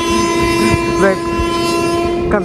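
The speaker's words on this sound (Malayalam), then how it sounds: "ഇതെന്താ ഞാൻ സംസാരിക്കുമ്പോൾ മാത്രം ലോക്കോ പൈലറ്റ് ഹോൺ അടിക്കണേ?" A loud, sustained passenger train horn blares close by over the steady rumble of the moving train crossing the Kaveri river near Mettur, with a second blast near the end.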